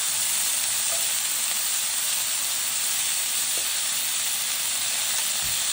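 Charred Brussels sprouts sizzle loudly in a hot pan while being tossed, a dense, constant hiss with faint pops throughout and no talking.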